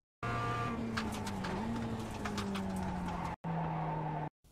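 Mazda MX-5 braking hard into a corner at Okayama in the iRacing simulator, engine tone falling as revs drop, with tire scrub layered over the braking and a brief cut before the engine note resumes.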